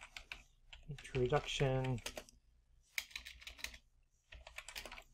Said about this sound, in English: if we want to, we can type something here